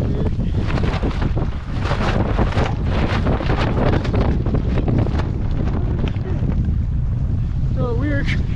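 Strong wind roars and buffets the microphone while a paddle board fitted with a homemade sail moves across open water, with water splashing and people talking faintly over it.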